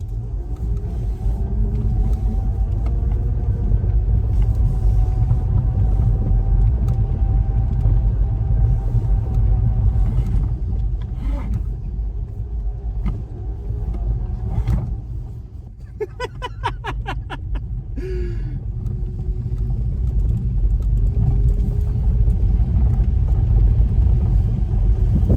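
A five-speed manual electric car driving under throttle with limited power, giving a steady low rumble of motor and road noise that continues throughout, loud and close, easing briefly midway before picking back up.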